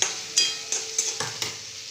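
Potato pieces frying crisp in a pan over medium flame, with a steady sizzle broken by several sharp scraping stirs at irregular intervals, close and clear with no talk.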